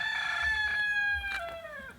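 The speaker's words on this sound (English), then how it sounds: "chickens again." A rooster crows loudly and close by in one long drawn-out call that tails off, with a hen clucking briefly underneath and no voices.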